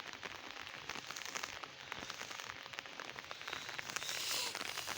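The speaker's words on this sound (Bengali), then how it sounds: "মেঘলা আকাশ কত সুন্দর, বৃষ্টি পড়তেছে" Light rain falls over a farm field with mango trees and chilli plants, a soft, faint patter of scattered drops with a steady hiss, swelling slightly toward the end.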